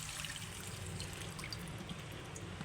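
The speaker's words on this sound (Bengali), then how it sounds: "এবার জল দিয়ে দেব।" Water trickles and pours steadily into a pot of potato and lentil-fritter curry cooking with ghee and asafoetida, a continuous soft splashing wash heard alone at low level.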